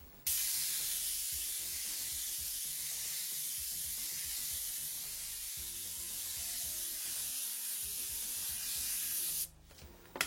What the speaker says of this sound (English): We're going to spray that in, maybe a medium coat.